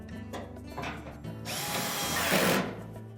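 Power driver whirs in short bursts, then a longer louder run as it tightens screws on a Whirlpool dryer front panel, close up and without speech.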